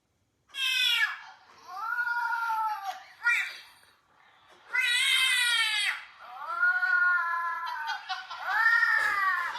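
A person imitates a cat, producing several drawn-out, wavering meows in a row, close and fairly loud, with brief pauses between them.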